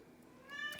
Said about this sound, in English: That's my cat, Kanga.